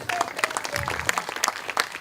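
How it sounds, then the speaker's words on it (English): Applause at an outdoor amphitheater concert rises from the crowd for a sound engineer: scattered, crisp hand claps layered into a moderate round, heard from a slight distance. "Give him a little round of applause here."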